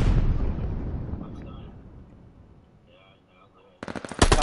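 A thrown grenade detonates in a console shooter game, a loud close blast that decays into a fading rumble, followed near the end by a quick burst of rapid gunfire.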